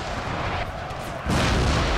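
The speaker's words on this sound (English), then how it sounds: "Oh man, was that my artillery?" Artillery fire in Empire: Total War, a dense rumbling battle din that swells into a louder, broad booming roar of cannon fire partway through.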